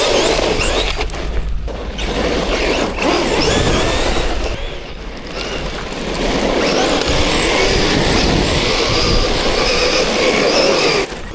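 ARRMA Gorgon RC truck with an upgraded power system driving: a loud, continuous whining, rattling motor and drivetrain roar with brief dips and surges in pitch, no talking.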